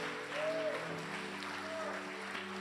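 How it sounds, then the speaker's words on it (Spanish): Congregation applauding in a church service, a steady wash of clapping from many hands that fills the room evenly, with a sustained musical tone underneath. "denle un aplauso al Señor"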